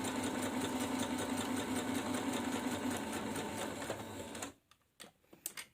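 A sewing machine runs steadily at close range while stitching a cloth face mask, with a dense rhythmic whir. It stops abruptly and a few handling clicks and bumps follow.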